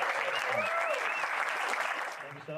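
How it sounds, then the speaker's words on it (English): Crowd applause for a snowmobile race team at an Iron Dog event, sustained dense clapping with cheering and voices mixed in throughout. "So please give them another round of applause."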